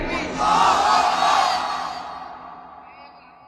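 A large crowd of young men at an Islamic religious sermon gathering roars a loud, echoing takbir chant in unison, swelling quickly and then trailing off into reverberation.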